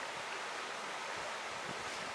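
The Llanthony river flowing in the Black Mountains valley, a steady broadband rush of water close by, constant and unbroken with no voices.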